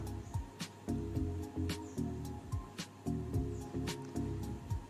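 Chopped tomato, coriander and two green chillies go into a pressure cooker, with soft wet squishing and light clattering thuds in quick bursts, close by.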